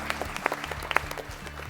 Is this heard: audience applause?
yes